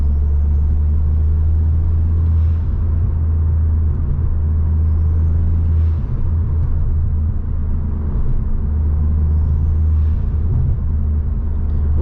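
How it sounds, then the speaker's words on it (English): Steady low engine and exhaust drone from a Ford XR5 Turbo while driving, a continuous loud rumble from inside the car with no talking. "With this exhaust, it's not too bad. It's not too loud. It is pretty drony though"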